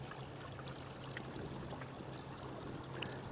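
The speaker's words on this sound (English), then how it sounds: "there's some of that trickling right there" Water trickles and pours over rock ledges beside a hiking trail on the Duck River, a soft, continuous splashing wash heard faintly at a distance with no talk over it.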